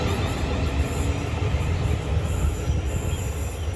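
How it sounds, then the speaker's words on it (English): A train on the Lymington branch line crossing the Lymington River, heard from on board as a steady loud rumble of wheels on track with a sustained high squeal from the wheels, no voices. "It's time to jump back on the train, cross the Lymington River and start my walk from Lymington town."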